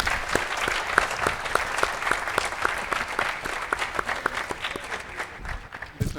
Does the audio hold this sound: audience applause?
yes